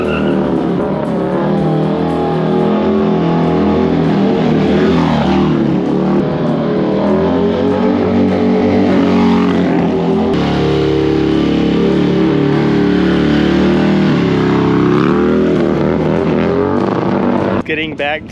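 Carbureted Harley-Davidson motorcycle engine while riding, a loud, steady, rumbling drone that runs unbroken for the whole stretch with rising and falling revs and heavy wind buffeting.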